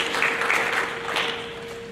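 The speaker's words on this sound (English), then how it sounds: "How about a round of applause for our choir students' academic excellence awards?" Audience applause at a seventh-grade school awards program, cheering choir students for academic excellence awards; a dense, steady wash of many hands clapping together, fairly loud and sustained, with a faint constant hum underneath.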